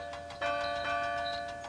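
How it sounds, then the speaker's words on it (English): A big bell held in a large wooden frame chimes cheerfully while being loaded onto a flatbed, a ringing tone with sustained, shimmering overtones that swells, then fades softly. "The bell chimed cheerfully as it was loaded onto Duncan's flatbed."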